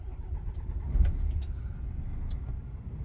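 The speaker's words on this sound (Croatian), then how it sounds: "Treba palit kamion." A truck engine idles and starts up during a night shift, a steady low rumble with a brief surge of louder engine noise and a few faint clicks, with no talk over it.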